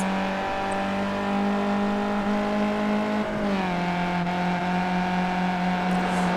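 Superskips race cars at Brands Hatch roar past in a sustained, loud engine drone. Pitch shifts midway as revs drop and climb again, with several machines blending into one continuous racing noise and no talk over it.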